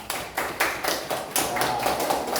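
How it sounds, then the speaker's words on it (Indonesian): Students clapping in a classroom for a group, a steady patter of many hands throughout with rhythmic bursts, fairly near and moderately loud with no talk over it. "beri tepuk tangan untuk kelompok 3 sekarang"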